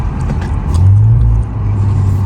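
Infiniti Q50 engine rising in a short rev during a downshift, a loud steady low drone that swells and holds before easing, with no talk over it.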